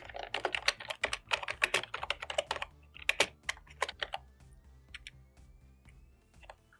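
Fast, close typing of hint text on a computer keyboard, bursts of crisp key clicks with brief pauses, thinning toward the end over faint background hum.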